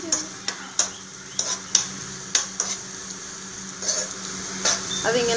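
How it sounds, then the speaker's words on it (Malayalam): Chopped onion stirred through melted butter in a pan, a soft sizzle broken by repeated sharp scrapes and clinks of the spoon against the pan, close and moderately loud, no voices. "ഈ നമ്മൾ ബട്ടർ ഉരുക്കി സവാള ഇട്ട് കൊടുത്തിട്ടുണ്ട് അത് ഇങ്ങനെ വഴറ്റുമ്പോൾ"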